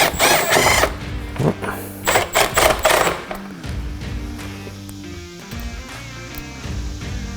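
A power driver sinks self-tapping bits to mount resistors for LED tail lights on a Ford Bronco. Loud rising whirs and ratcheting bursts come close, with a steady motor drone between them.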